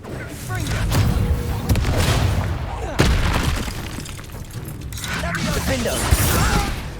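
Confringo spell explosions in the Hogwarts Legacy video game, loud booming blasts and crackling debris over dense game noise, with voices shouting among the combat sounds.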